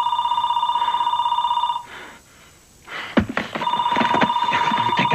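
A telephone bell rings steadily and loudly in a dramatic scene from an action film, breaks off for a moment amid a thump and some rustling, and then rings on.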